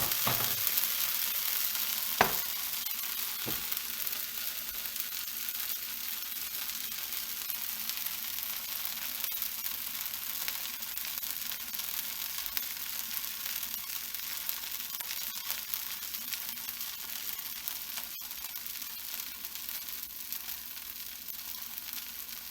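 Crepe or dosa batter sizzles and crackles steadily in a hot, well-greased pan, a soft, even frying hiss with a couple of faint clicks early on.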